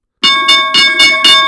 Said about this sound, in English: There's our opening bell.